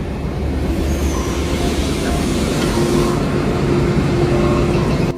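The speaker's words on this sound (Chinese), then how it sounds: "这是4123号机车牵引货列进塔纳朗站" An Alstom-built Thai railway locomotive, number 4123, hauls a freight train into Thanaleng station. Its steady, loud, close rumble of engine and rolling wagons continues unbroken throughout.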